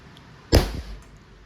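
One sharp, close snap or pop, a Texoma Precision spring-powered pellet pen gun firing once, with a short rattling tail, set against near silence.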